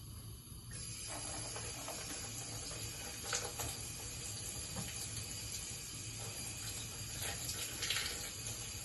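A sea bass fillet rinsed under a running kitchen tap, a steady, fairly faint stream of water splashing and hissing in a sink without pause, with no one speaking.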